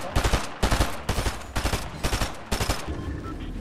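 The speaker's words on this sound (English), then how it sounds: "Sorry, shooting at him, pressuring him to get him off that." Fortnite gunfire while shooting at an opponent: loud, close bursts of three or four rapid shots, repeated in a steady rhythm about every half second.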